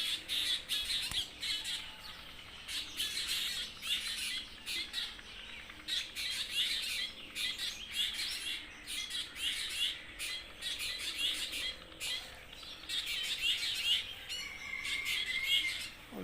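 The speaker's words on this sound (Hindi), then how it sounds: "और ये हर तरफ सुबह परिंदों की आवाज़ें गूंज रही होती हैं।" Birds squawk and call from morning trees around a home nest, a busy, continuous chorus of sharp, high squawks and chirps pulsing in rapid bursts at moderate distance, with no talking.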